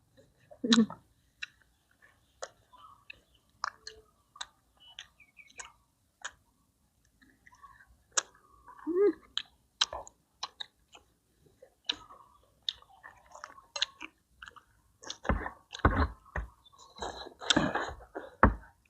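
Crunchy, wet chewing of spicy Thai green papaya salad with crispy grilled quail and sticky rice, close to the mic in irregular bursts, with louder crunching bites near the end.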